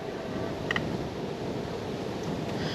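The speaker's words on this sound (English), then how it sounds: "It's kind of windy out today." Steady broadband wind rush buffeting the microphone while riding an Onebot S6L e-bike in Cherokee Park, Louisville, Kentucky, continuous and fairly loud throughout with no voices.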